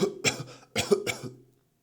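A harsh cough in two bursts, a pair of quick hacks, a pause, then two more, close and fairly quiet, with no talk over it.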